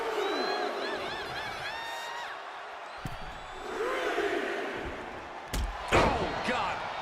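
A wrestling arena crowd in the WWE 2K25 video game roars and cheers throughout, with sharp slams and impacts landing over it and commentary talking on top.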